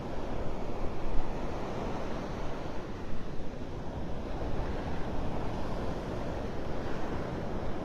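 Surf pounds Vanderbilt Beach in North Naples, Florida at high tide during Tropical Storm Debby, a loud steady roar of breaking waves mixed with gusting wind noise across the microphone, with no voices.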